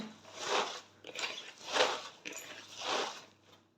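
Fresh spinach rubbed firmly with salt by hand, giving three distinct bursts of wet, crunchy squeezing and crackling. Each lasts about a second, close and moderately loud, with short pauses between.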